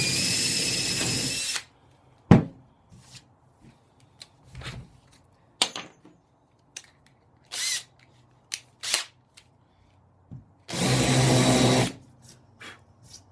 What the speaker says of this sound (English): Drill them out with a brad point drill bit.